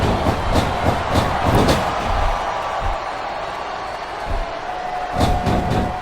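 An arena crowd roars in the wrestling video game WWE SmackDown vs Raw 2007, with a steady wash of cheering and several sharp slamming thuds, all fairly loud.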